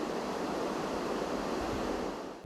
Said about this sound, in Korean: 이거는 백색 소음을 유발하는 소음 중화기가 되겠습니다